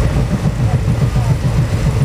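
Inside a moving train, a loud low rumble rolls on with a rhythmic clatter of wheels over track joints.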